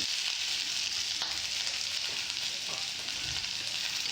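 Sliced onion frying in oil with mustard seeds and curry leaves for a South Indian poriyal, a steady close sizzle with occasional faint stirring clicks.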